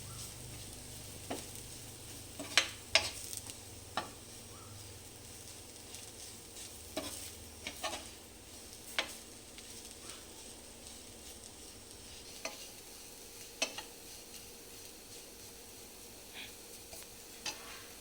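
Chilli and turmeric powder roasting in a pan for a Kerala sardine curry give a soft, low sizzle, with faint scrapes and taps from stirring scattered throughout.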